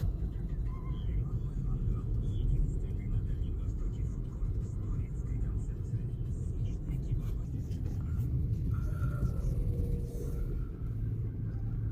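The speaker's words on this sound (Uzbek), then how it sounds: "Mashina oqib ketyapti." Cars moving through congested city traffic, a steady low engine rumble and tire drone heard from inside a vehicle, with a faint voice talking quietly over it.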